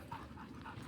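A dog pants in quick steady breaths, faint and somewhat distant under a constant outdoor background, with no talking.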